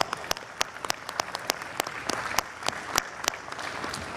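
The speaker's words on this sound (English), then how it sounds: "Let's give him another round of applause." Scattered applause from a festival audience, quiet and fairly distant: individual hand claps pop out sharply over a thin wash of clapping for a few seconds.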